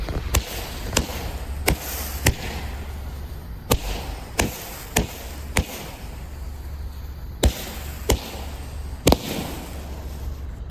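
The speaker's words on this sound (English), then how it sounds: "We got a firework." Fireworks crack and pop about a dozen times at uneven intervals, each burst sharp and loud over a steady low background hum.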